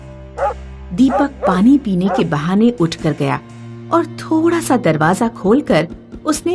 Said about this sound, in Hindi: एक कुत्ता उसके ऊपर भौंक रहा था।